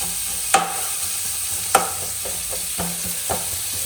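Sliced onions sauté in hot oil with curry leaves for an egg curry: a soft, steady sizzle broken by several sharp spatula taps and scrapes against the pan.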